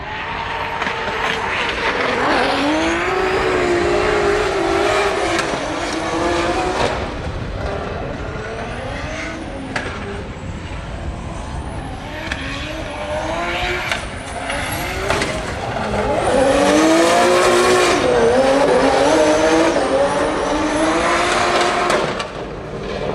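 Drift cars at Drift Masters Grand Prix practice in Ireland, engines screaming loud and close as they rev and bounce off the limiter, with tires squealing under sustained, continuous noise throughout.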